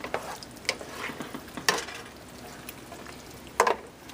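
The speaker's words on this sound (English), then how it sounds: "then we'll let this cook all together for about 5 minutes" Kimchi chicken stir-fry with garlic and chili cooking in a pan, a steady low sizzle broken by sharp clinks and scrapes of a utensil stirring the food; no voices.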